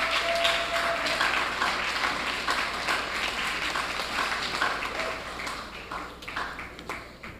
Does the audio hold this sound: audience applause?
yes